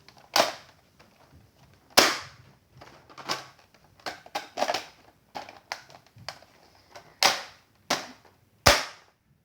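Nerf Doomlands shotgun-style blaster firing two foam darts at once: about a dozen sharp snapping pops with loading clacks between them, close and loud against a quiet room, no talk.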